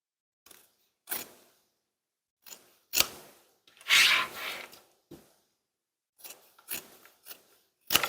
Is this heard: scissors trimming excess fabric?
yes